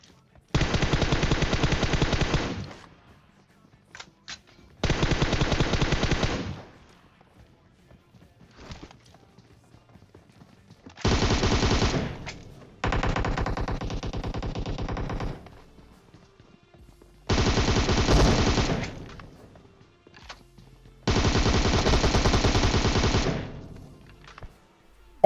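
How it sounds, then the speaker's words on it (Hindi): Bursts of automatic gunfire from players shooting in PUBG Mobile, several sustained volleys of a few seconds each separated by quiet gaps, loud and close. "बीच सड़क में, बीच रोड में गाड़ी रोक के यार गोली चला रहे हैं।"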